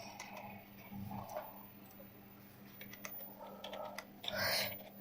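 Typing on a computer keyboard, with a few soft, scattered key taps and clicks at low volume against a quiet room hum.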